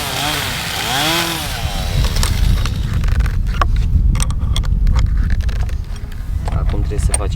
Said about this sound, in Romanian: Așa că o să tăiem grinda